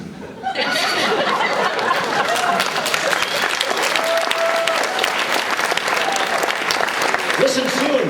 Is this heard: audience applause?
yes